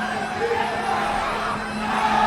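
A crowd at a Global Fight Champion fight event roars and cheers continuously, a steady mass of voices with a few shouts rising over it, heard without any commentary.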